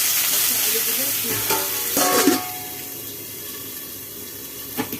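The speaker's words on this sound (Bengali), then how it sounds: "আলুগুলো ভেজে দিতে হবে।" Potatoes fry in mustard oil with a steady close hiss, interrupted by a few scraping stirs and a brief clatter of the utensil against the pan.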